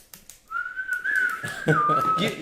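One sustained whistled note, held steady and then dipping slightly, with some rustling or faint voice-like noise under the second half.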